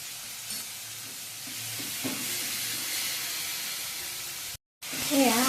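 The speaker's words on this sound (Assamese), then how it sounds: "আদা নহৰুখিনি দি পিনে মই ভালদৰে ভাজি ল'লোঁ বিলাহীখিনি" Steady close-up sizzling of ginger garlic paste frying with tomatoes in a hot pan, occasional stirring scrapes, a brief silent gap, then a voice.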